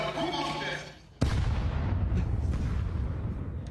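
AK rifle fire in a Counter-Strike esports show match: a sudden loud shot cracks in, followed by a continuous rumbling stretch of gunfire and game noise, with an excited caster talking before and over it.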